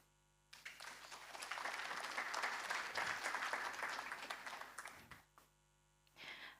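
Forum audience applauding a panelist, a steady burst of clapping that swells and fades over several seconds, with no talk over it.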